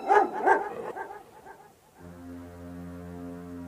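A black dog barks loudly in an empty, cold house, a few sharp barks ringing with an eerie echo, then fading before a sustained low tone takes over.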